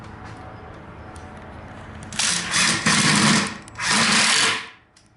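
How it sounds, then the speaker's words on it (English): A power drill fitted with a posi-drive driver bit drives screws into a frameless sink base cabinet, giving several close, loud whirring bursts of varying length separated by short pauses. "I'll go ahead and install my posi-drive driver into the drill."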